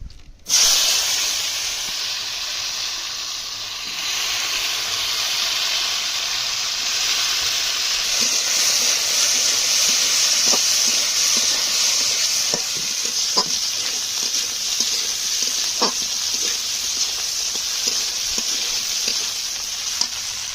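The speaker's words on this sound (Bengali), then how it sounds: "আলু আর উস্তে কেটে রাখা ছিল, আমি এখন দিয়ে দেবো।" Potatoes and bitter gourd hit hot oil with cumin, bursting into a loud, steady sizzle that hisses on and on, with occasional stirring scrapes and clinks near at hand; no talk.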